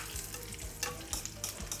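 Mustard seeds, cumin, curry leaves and dried red chillies crackle and sizzle in a little hot oil, a steady close frying hiss with rapid popping bursts throughout.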